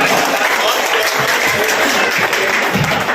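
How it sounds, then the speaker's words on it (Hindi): Steady, loud audience applause fills the whole stretch at a crowded gathering of politicians, social workers and officials at a hotel, continuous clapping with no pauses. "आइए एक बार जोर से तालियां बजाइए"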